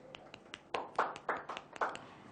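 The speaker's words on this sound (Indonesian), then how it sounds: "Boleh tepuk tangan lagi yuk." Scattered applause from a small audience at a press conference for a phone launch, a few sparse claps swelling into several quick bursts at moderate distance, with no talk over it.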